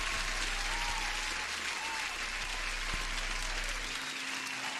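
Steady applause from a crowd, continuous clapping at moderate volume with a low hum underneath.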